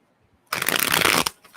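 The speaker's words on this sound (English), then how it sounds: "I'm going to shuffle these up a few times." Tarot cards get a single quick riffle shuffle, a loud papery flutter of about one second that stands alone against near silence.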